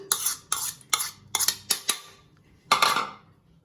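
Chopped banana flower being mixed with onion and ginger in a bowl, heard as a series of close, sharp scraping clinks of a utensil against the dish, about seven quick strokes with a short pause before the last.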